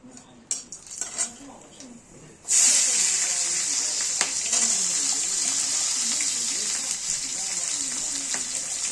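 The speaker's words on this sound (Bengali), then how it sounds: "এখানে যে কুচিয়ে রাখা রয়েছে পেঁয়াজ রসুন আর ক্যাপসিকাম সেগুলো আমরা দিয়ে দেবো" Chopped onion, garlic and capsicum hit a hot pan and break into a loud, steady sizzle that holds for several seconds, after a short stretch of quieter kitchen clatter.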